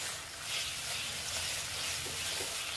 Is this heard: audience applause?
no